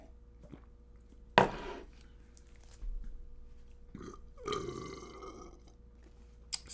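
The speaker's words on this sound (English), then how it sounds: "for someone to belch audibly and with his mouth open" A loud open-mouthed burp, one long rumbling belch in the middle after a sharp knock, set among quieter clicks and faint background noise.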